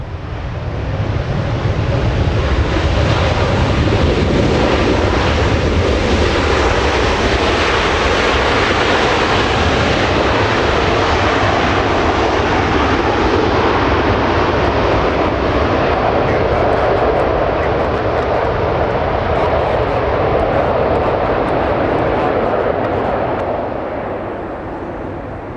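British Airways Airbus A380 at Los Angeles International Airport, a loud sustained jet roar that builds quickly and holds for a long pass before slowly fading, with some wind buffeting on the microphone.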